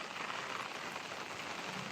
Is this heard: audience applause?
no